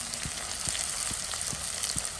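Chopped garlic and ginger fry in hot oil in a pan, a loud steady sizzle with soft, regular stirring taps every half second or so.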